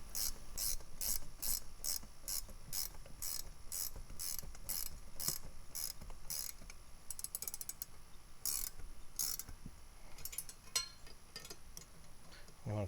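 A 14mm wrench tightening a bolt with a nylock nut ratchets in a quick, steady series of close clicks that speed up into tighter bursts toward the end.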